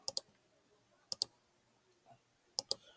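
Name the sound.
computer keyboard spacebar presses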